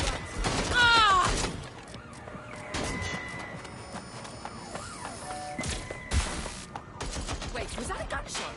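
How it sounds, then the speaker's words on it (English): Video game Watch Dogs Legion gameplay carries gunfire amid a busy, dense mix of game sounds, with a sharp shot standing out early and a siren-like wail threading through the background. "Wait, was that a gunshot?"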